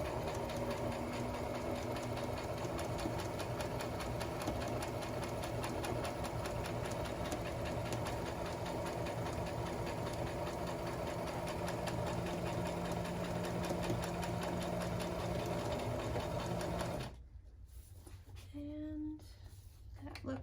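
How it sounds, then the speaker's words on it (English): Sewing machine running steadily while back stitching the seam of a fabric mask, a loud continuous mechanical whir lasting about seventeen seconds before stopping abruptly, with faint handling sounds after. "we're going to do a back stitch when we start and a back stitch when we end."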